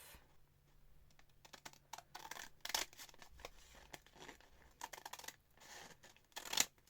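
Scissors trim paper for a small expanding-pocket craft project, giving faint, close snips and scratchy paper rustles in an irregular pattern, with no voices.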